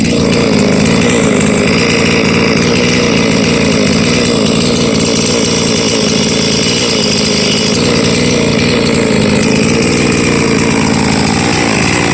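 Chainsaw running steadily below full RPM while pumping bar oil, a loud, close, continuous engine buzz holding at one pitch throughout with no talking.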